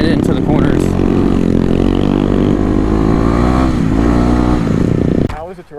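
A Kawasaki KLX dirt bike engine revs steadily and loudly up close while being ridden on gravel roads, a continuous droning roar with shifting pitch before cutting off abruptly near the end.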